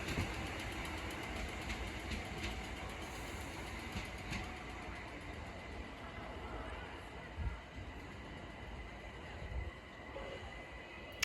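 A Class 378 London Overground electric train passes at Sydenham, producing a steady, distant rumble of wheels on track with a few soft clunks. It stays fairly faint throughout, and a voice talks occasionally over it.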